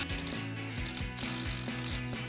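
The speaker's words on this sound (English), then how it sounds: "go ahead in with a 10 millimeter," A hand ratchet with a 10 mm socket clicks steadily as it tightens a strut mount bolt on a 2005-2014 Mustang. The rapid pawl clicking is close and loud and comes in several back-and-forth strokes with no talk.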